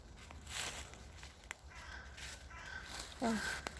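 A crow caws a few times outdoors in a rural setting, the calls fairly faint and brief amid background noise, with some faint voices nearby.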